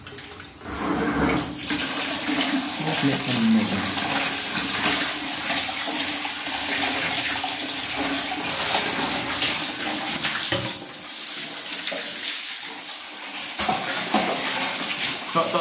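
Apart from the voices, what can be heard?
water flowing through a clogged sewer drain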